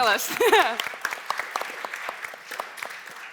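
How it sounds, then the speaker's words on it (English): An audience at a festival talk claps in a burst that thins into scattered handclaps, with a speaker's voice heard over the start. "if you want a bench to be placed in your city, give applause"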